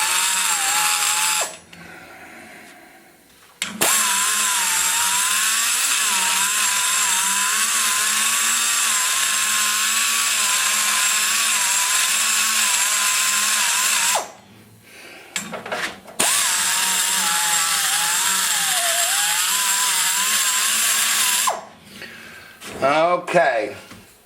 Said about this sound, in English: So what I'm going to do is I'm going to form a trench starting at the bottom to take that curvature out.